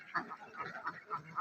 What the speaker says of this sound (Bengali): এখানে 1000 হাঁস আছে।